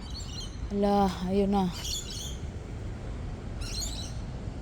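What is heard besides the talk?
birds calling outdoors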